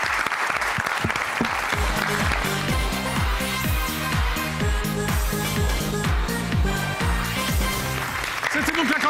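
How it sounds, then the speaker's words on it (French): A studio audience applauds steadily on a French TV talent show, sustained clapping over upbeat music with a strong regular beat, loud and continuous throughout. "On l'applaudit très fort"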